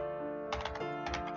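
Keys on a computer keyboard are tapped in a quick, light run of clicks, close by and soft, over a faint steady background hum.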